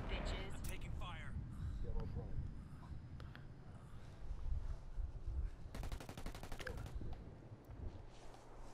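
Gunfire in the video game Tom Clancy's Ghost Recon Wildlands, bursts of shots and rapid automatic fire heard under and between players talking over voice chat, with a dense rattling burst near the end.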